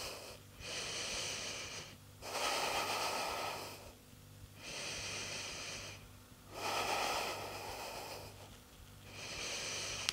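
Slow deep breaths held during a power yoga pose, several long airy inhales and exhales alternating in a steady rhythm, close and soft, with no talking.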